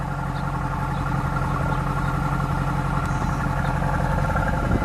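A 2011 Mercedes-Benz SLS AMG Gullwing, a front mid-engine car, idling at close range: a loud, steady, deep burbling rumble that holds even throughout, with no voices.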